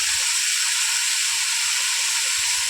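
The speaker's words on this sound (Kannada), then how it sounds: "ಈರುಳ್ಳಿ ಫ್ರೈ ಆಗ್ತಾ ಇದೆ ನೋಡಿ" Onions fry in hot oil in a pan with a loud, steady, close sizzle and hiss that continues without a break, with no voices.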